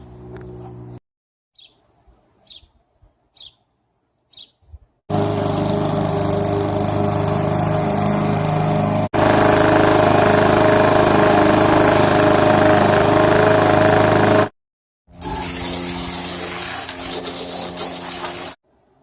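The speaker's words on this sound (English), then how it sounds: "we got the lawn all mowed" Lawn mower engine running loud and close while cutting grass, a steady droning roar broken by a brief dropout, after a few seconds of faint tapping and near silence at the start.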